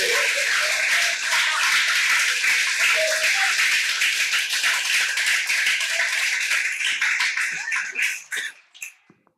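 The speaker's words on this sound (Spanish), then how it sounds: "Denle un fuerte aplauso al Señor" A church congregation claps loudly and continuously as an offering of praise, a bright, dense clatter of many hands that breaks into scattered claps and fades out near the end.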